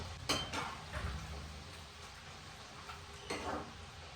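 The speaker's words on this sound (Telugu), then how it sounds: "ఇప్పుడు కాకరకాయ అన్ని నేను యాడ్ చేసేసుకొని ఫ్రై చేసేసుకుంటాను" Bitter gourd pieces frying in hot oil in a pan, a low, steady sizzle with occasional clinks and stirring scrapes of a utensil, no talking.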